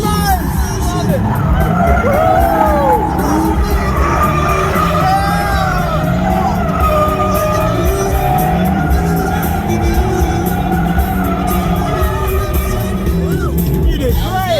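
Dodge Charger with 797 horsepower drifting, heard from inside the car: a loud, sustained engine roar with repeated rising tire squeals and skids throughout, under excited whooping and cheering from riders.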